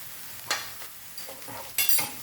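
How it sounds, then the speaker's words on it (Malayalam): Browning onions with chili powder added crackle softly in a pan, with two sharp sizzling bursts and light stirring scrapes between them, fairly quiet and without talk. "സവാള ഏകദേശം മൂത്ത് വരുമ്പോൾ ഒരു 3/4 ടീസ്പൂൺ മുളക് പൊടി ഇട്ട് കൊടുക്കാം"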